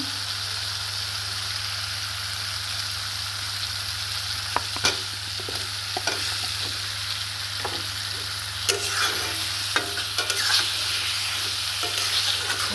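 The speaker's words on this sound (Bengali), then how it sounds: "চিকেনটা দিয়ে মশলার সাথে ভালো করে কষছি" Chicken stir-fried in mustard spice paste for a mustard chicken curry, a continuous close sizzle with repeated sharp spatula clicks and scrapes against the pan, a low steady hum underneath and no talking.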